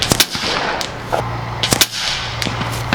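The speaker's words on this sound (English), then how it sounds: "Here we go, 10 shot group, 100 yards using 26 grain" A Nova Liberty shotgun fires AVS slugs at a 100-yard range, producing several sharp, loud reports in quick succession over a few seconds, each a crisp crack with a brief echo.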